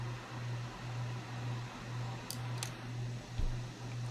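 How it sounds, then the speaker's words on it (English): A vacuum cleaner runs somewhere outside, heard as a steady low drone under a constant hiss, with a few small clicks and a soft knock near the end. "I think somebody's using the vacuum outside."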